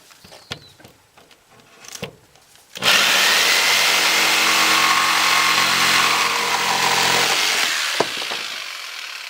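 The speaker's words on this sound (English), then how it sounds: "Now we're going to use the jigsaw and cut that out." A jigsaw cuts a rectangular hole for an electrical box in a wooden wall panel, a loud steady buzzing rasp of about five seconds that follows a few light handling knocks and then stops abruptly.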